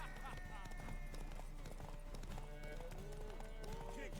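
Hooves of a horse clip-clopping in a fantasy video game, a soft steady trot running under background music and talking voices.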